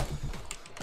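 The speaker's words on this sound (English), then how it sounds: "I just slapped my freaking mouse across my freaking keyboard." A computer mouse slaps and skids across a keyboard during a Minecraft gaming session, producing a quick rattle of several key clicks in under a second, close and moderately loud, with no voices.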